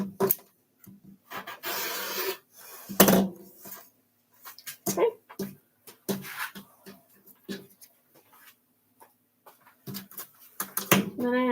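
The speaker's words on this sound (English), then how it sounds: "Then I have to just go and trim the edges." Scrape-and-rub sounds from trimming the edges of a layered craft piece with poppy and green back pieces, coming in short irregular bursts close by, with gaps of quiet between them.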